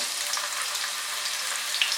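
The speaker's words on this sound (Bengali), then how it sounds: "এর মধ্যে আমি টুকরো করে কেটে রাখা আলু দিয়ে দেব। আলুগুলোকে ফ্রাই করে নেব।" Potato pieces fry in hot oil in a wok, giving a steady, close sizzle with no break across the whole stretch and no talk over it.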